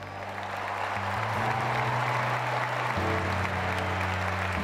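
Steady applause from a stadium crowd at the London 2012 Paralympic athletics medal ceremony greets Germany's bronze medalist Martina Willing, continuous and even throughout, with a low sustained hum from the venue's sound system underneath.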